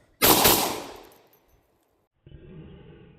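Kimber Rapide Scorpius 10mm pistol fired rapidly, a loud blast of close shots merging into one burst that decays over about a second, followed by a quieter metallic rattle.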